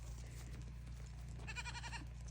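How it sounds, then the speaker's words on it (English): A goat from a small homestead herd gives a short, quavering bleat partway through, moderately close, over a steady low outdoor hum. "and of course our fainting goat, Moon Pie."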